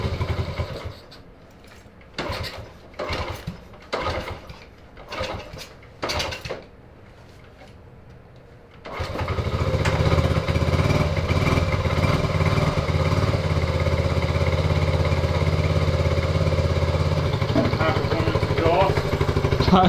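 Several short bursts and clanks as a 1979 Honda Trail 90 motorcycle engine, unstarted for 26 years, is cranked, then it catches and runs with a loud, steady throaty idle close by.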